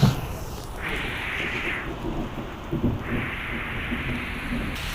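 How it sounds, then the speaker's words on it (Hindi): Steady heavy rain pours down on surfaces in Italy while low thunder rolls and rumbles underneath, a continuous close wash of rainfall with deeper booming swells, no voices. "तो बिजली देखे कितनी ज़्यादा गरज रही है।"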